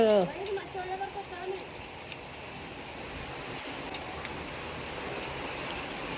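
Steady rain falls in a soft, even hiss after a brief voice at the start, continuing alone at moderate loudness.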